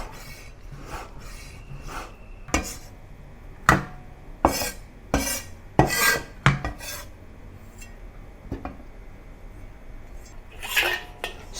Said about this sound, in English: Cut it into small pieces about half a centimeter in length.